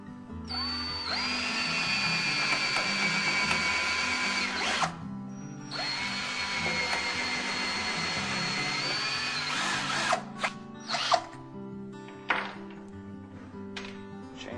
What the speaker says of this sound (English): what I'm going to do is pre-drill both of these first